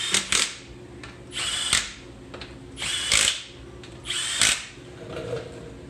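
Half-inch impact wrench lightly running in 21 mm brake caliper bolts on a 2005 Toyota Camry, four short whirring bursts evenly spaced with brief pauses, close and loud.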